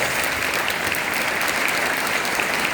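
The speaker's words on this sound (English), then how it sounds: "Let's give a big round of applause to all the newly elected leaders." A crowd at a school investiture ceremony applauds its newly elected leaders, with dense, even clapping that stays loud and steady throughout.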